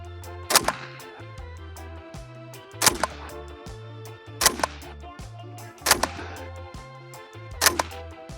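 Four sharp, loud shots from a Century Arms MKE AP5 MP5-style gun firing 115 grain full metal jacket rounds, spaced at an even, unhurried pace and cracking nearby over quiet background music.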